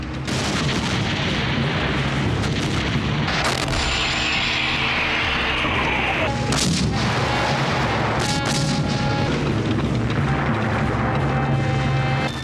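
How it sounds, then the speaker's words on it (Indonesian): Heavy Soviet large-calibre artillery firing in a World War II battle, a dense, loud barrage of booms and rumbling blasts overlapping continuously, with sharper reports standing out now and then and no talk. "Sementara Soviet tetap bertahan semampunya dengan barisan artileri kaliber besarnya"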